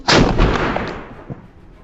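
A blunderbuss, a flintlock firearm of the pirate era, fires once with a loud, close, broadband blast that decays into a rumbling tail over about a second and a half, with no talking.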